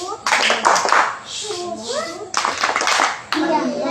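Children at a Quran study group perform the 'tepuk diam' clap routine, chanting loudly together between bursts of rhythmic hand claps.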